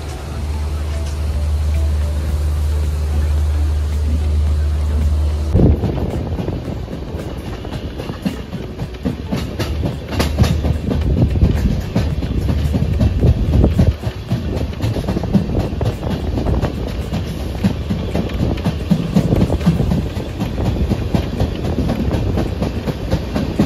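Konkan Kanya express train on the Konkan to Mumbai run, heard from inside a carriage: a steady low rumble gives way to loud, rhythmic clickety-clack of wheels over rail joints, with a faint background voice.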